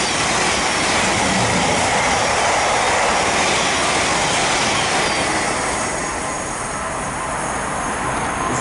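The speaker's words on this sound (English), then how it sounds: "the next train's gone charging through, but yet another Thameslink service going up to Bedford" A Thameslink Class 700 train, unit 700 134, charges through Mill Hill Broadway station toward Bedford, a loud, close, continuous roar and rush of wheels and air that eases slightly near the end.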